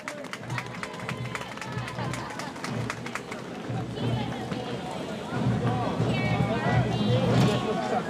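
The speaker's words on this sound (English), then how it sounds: "Please give it up for Natalie. Big round of applause." Outdoor crowd at the Gaspee Day Parade clapping and cheering for an honoree, a dense broadband wash of applause mixed with crowd hubbub that swells louder toward the end.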